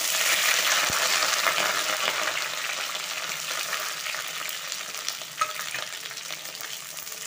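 Fenugreek seeds fry in hot oil with a steady, bright, close sizzle that fades slightly over time, marked by one sharp clink early on and no speech.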